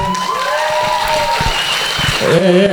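Stand-up comedy audience clapping, dense steady applause filling the room throughout, with a voice briefly audible over it near the end.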